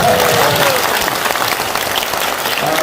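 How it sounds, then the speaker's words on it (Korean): Loud, dense audience applause at a clan association extraordinary general meeting, continuous clapping filling the hall from start to end. "함께 박수 한번 주세요"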